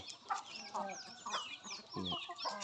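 Backyard chickens on a small Thai home farm cluck in a busy chorus of short, overlapping calls, mostly close by, with rising and falling bursts and no talk.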